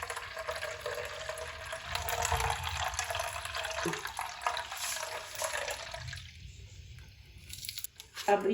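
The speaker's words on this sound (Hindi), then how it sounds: "इसके अंदर मैं थोड़ा सा पानी डालूंगी, ज़्यादा नहीं डालेंगे।" Water poured into a jug in a home kitchen while preparing a beet and carrot drink: a splashing, gurgling pour for several seconds that tapers off near the end, with a voice talking over it.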